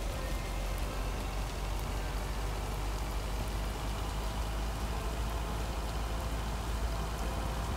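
Video game rain: steady, dense rainfall hisses continuously at an even level, a constant wash of patter with no voices over it.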